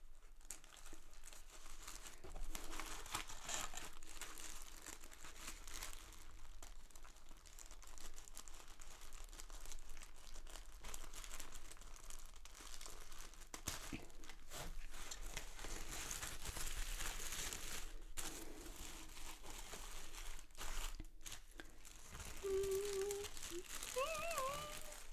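Paper packaging being unwrapped during an unboxing of an art supply crate, heard as continuous close crinkling, rustling and tearing with scattered louder crackles throughout, with no voice over it.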